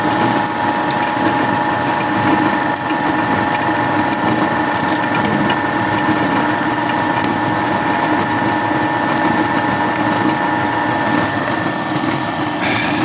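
A pellet mill for granulating waste runs with its restored die being lapped in, giving a loud, continuous mechanical whine and grinding drone with steady high tones, unbroken throughout.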